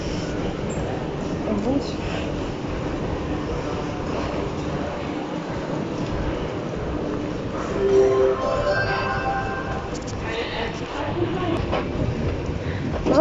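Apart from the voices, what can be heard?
metro train riding underground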